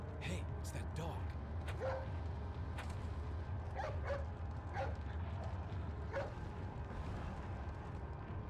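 A dog barks in the 2005 video game Resident Evil 4, several short sharp yips and barks spaced irregularly over a constant low game ambience, moderately near, with a voice talking over it.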